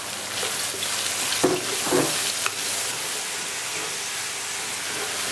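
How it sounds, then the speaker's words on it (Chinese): Pork and potato pieces stir-fry in a hot wok with a steady, close sizzle, broken by a few scraping strokes of the spatula as the food is tossed. "炒匀放土豆，"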